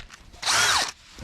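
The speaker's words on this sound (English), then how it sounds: "we're actually using a cordless drill, so it's going to take us significantly longer" A cordless drill fitted with a wire wheel strips the wheel well of a Nissan 300ZX, one loud, near burst of grinding whine lasting about half a second between quieter moments.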